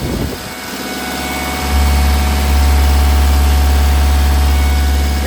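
A 2019 Volvo ECR 45EL excavator engine runs close up, a loud steady rumble with a strong low drone that rises slightly and holds smooth and even throughout.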